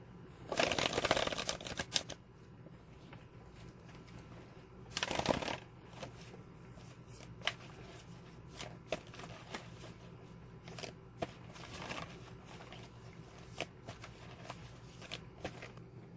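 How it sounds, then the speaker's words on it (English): Tarot cards being shuffled nearby in two bursts, a riffling flutter early and again midway, followed by scattered light taps and clicks in a quiet room. "Go ahead and shuffle here for a little bit."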